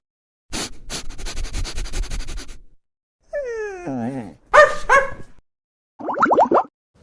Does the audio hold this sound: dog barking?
yes